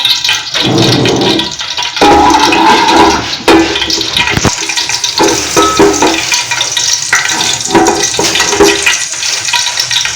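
Cumin seeds dropped into hot oil for a chole masala crackle and sizzle loudly and steadily, a dense watery hiss with scattered pops running throughout, no voices.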